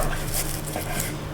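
Eggplant filling tips into a frying pan with oil and salt, a close, steady clatter of pan and utensils with a broad sizzling hiss throughout, no voices.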